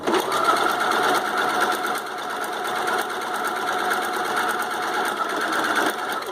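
A home sewing machine stitches a bikini with full cups, its rapid mechanical whirring and ticking running loud and continuous throughout, with slight shifts in speed and no talk over it.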